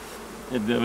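A honeybee colony at the end of wintering, stirred up slightly, gives a steady low hum that swells into a louder, agitated buzz partway through, close by with no talk.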